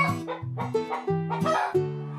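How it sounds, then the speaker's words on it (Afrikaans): A farmyard rooster crows nearby, a series of loud, harmonic calls rising and falling in quick succession over about two seconds, heard alone. "Dit is 'n hoenderhaan."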